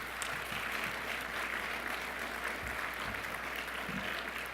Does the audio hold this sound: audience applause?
yes